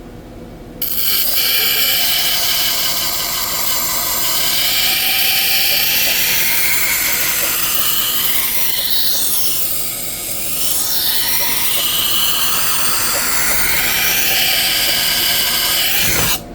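Powered sharpening wheels grind a knife edge with a loud, steady whirring hiss that holds for the whole stretch and dips briefly as the blade shifts, heard close up with no talking.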